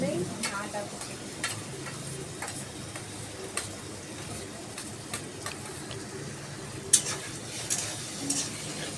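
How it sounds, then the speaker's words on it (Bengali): Chopped garlic fries in a pan with a steady low sizzle, broken by intermittent spoon scrapes and taps at irregular intervals, close and moderately quiet. "রসুনটা একটু ভাজা হলেই আদা কুচি দিই।"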